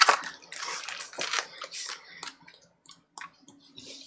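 A fan brush loaded with watery paint flicks and splashes in a string of short, wet, irregular bursts close by, with quiet gaps between the spatters.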